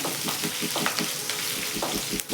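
Green chillies and curry leaves frying in hot oil, a steady close sizzle broken by repeated sharp pops and crackles, with no voices.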